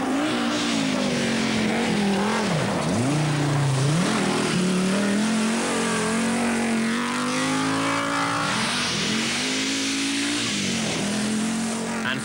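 An Audi Quattro rally car races on a Swedish winter rally stage, its engine revving hard and loud with rising and falling pitch through gear changes, sustained throughout under a commentator's voice.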